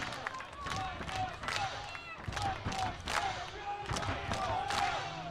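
Baseball fans cheer in the stands at an Oakland Ballers game, a steady, distant crowd roar broken by scattered claps and thumps, fairly faint throughout.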